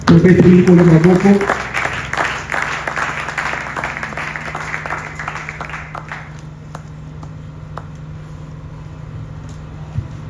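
Church congregation bursts into loud applause and cheering acclaiming the Lord, strongest at the start then fading over several seconds into a low hum and scattered claps.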